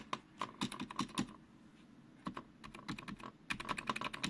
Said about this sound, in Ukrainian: Клавіатура із-за того, що не стоїть нормально на столі, все оце клацає.